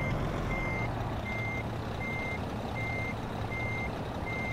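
Kenworth tractor-trailer in American Truck Simulator reversing, a steady series of evenly spaced warning beeps over a low diesel engine drone, loud and unbroken with no talk.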